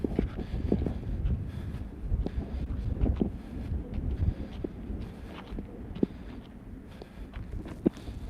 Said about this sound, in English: A little windy here right now.